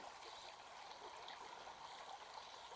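A stream at a water crossing on Middle Fork Trail babbles steadily, a continuous close, even rush of flowing water with no voices.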